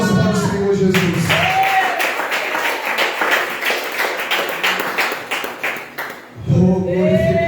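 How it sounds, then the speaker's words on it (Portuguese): Congregation clapping together during a church service at an IPDA Pentecostal church in Goiandira, Goiás, a dense, steady patter of many hands lasting several seconds, with voices heard before and after. "Palmas para o Senhor Jesus"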